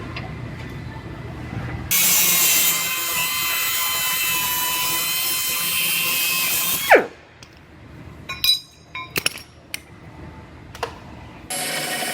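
Sheet metal on a wrecked Dodge Ram body is split for repair: a loud, steady, high-pitched cutting whine runs for about five seconds, then gives way to scattered short metallic clatters.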